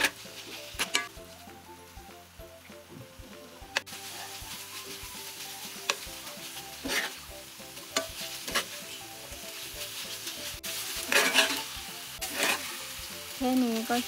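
Beef kua kling dry-stirring in a pan with oyster sauce, fish sauce, kaffir lime leaves and young peppercorns: a steady sizzle with intermittent scraping stir strokes and a few utensil taps, close and continuous.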